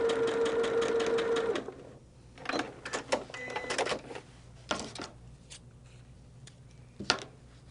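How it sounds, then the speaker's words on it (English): A sewing machine stitches quilt fabric pieces in a steady, close whirring run for about a second and a half, then stops, followed by scattered clicks and fabric handling noises. "And then stitch right down the line."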